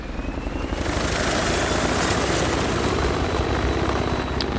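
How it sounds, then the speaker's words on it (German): A helicopter in the video game Battlefield 3 gives a steady, loud rotor roar with dense rumbling thrum, close and constant throughout with no talking. "der Helikopter ist jetzt etwas lauter"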